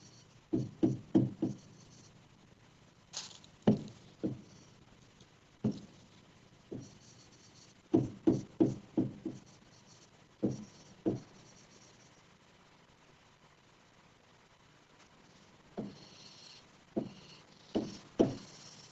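Chalk tapping and scraping across a classroom board during an English grammar lesson, coming in quick bursts of several strokes with pauses between, fairly close and fairly clear, with no talk over it.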